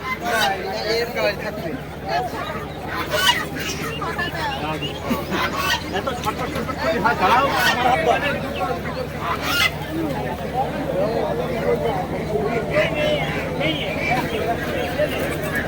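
Busy crowd chatter at a poultry market, mixed with honking ducks and squawking chickens in cages, steady and close, with voices talking throughout.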